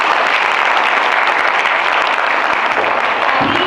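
Steady, dense applause from an audience at a Dev Samaj festival quiz, honouring all the competing teams; loud continuous clapping fills the whole stretch without a break.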